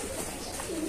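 Giribaz pigeons kept in a loft above a cowshed on a farm coo briefly in low, soft murmurs amid faint background noise.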